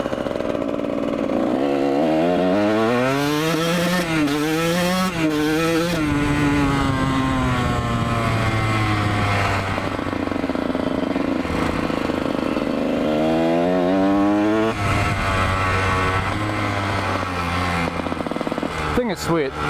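A Kawasaki KX 125 two-stroke dirt bike revs hard while riding, its loud buzzing engine climbing and falling through repeated throttle bursts, with a rider's voice over it.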